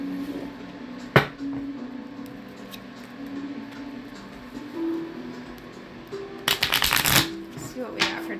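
A Light Seers tarot deck gets riffled and shuffled in a quick rustling, slapping burst near the end, close-up, after a sharp tap earlier, with a voice talking quietly underneath.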